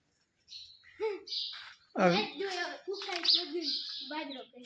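Sparrows crowding at a millet-filled feeder in a village yard chirp in quick bright bursts, close and fairly loud, mixed with people talking nearby.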